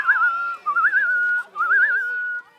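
Clear, close whistling in two rising-and-wavering melodic phrases, separated by a short pause, likely a person imitating parrots whistling together, with no other sounds around it.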